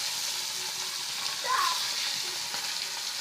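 Spiced hilsa fish frying in hot oil in a wok, a steady close sizzle that flares briefly as the pieces settle, with no talk over it.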